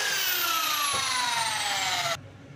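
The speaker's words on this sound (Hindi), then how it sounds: "ड्रिल मशीन की मदद से इसको बड़ा कर लूँगा।" An electric drill enlarges a small hole, giving a loud, steady high whine with a slowly falling pitch for about two seconds before it cuts off abruptly, leaving quiet background.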